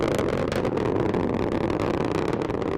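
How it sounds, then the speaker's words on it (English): A dense, steady roar of rocket strap-on boosters firing at full thrust during the Parker Solar Probe launch, heard as continuous broadband rumble without pauses. "Strap-on boosters look good in the full thrust mode."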